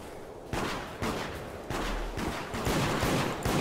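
Rapid bursts of automatic gunfire from the video game Deceit, loud and close, repeating in a steady rattling rhythm with sharp individual shots throughout.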